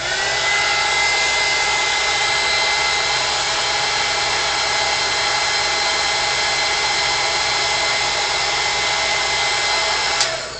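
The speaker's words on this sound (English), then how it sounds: "we're going to pull out the heat gun and we are going to dry this" A heat gun runs steadily, drying paint on a butterfly postcard, a loud continuous blowing whir with a high whine that holds evenly from start to finish, with no talking.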